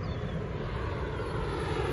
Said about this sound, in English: Flying planes around here.